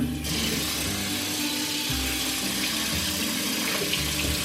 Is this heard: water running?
yes